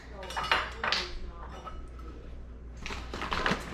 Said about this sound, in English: And we're going to mix that together.